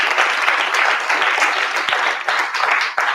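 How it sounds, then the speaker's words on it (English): An indoor audience breaks into a dense, steady round of applause that holds at full volume throughout, with no voices standing out. "Give yourselves a big round of applause, Tubman City."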